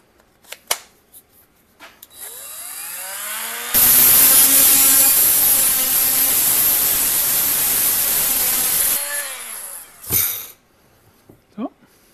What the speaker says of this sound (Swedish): Vi tar ett borr.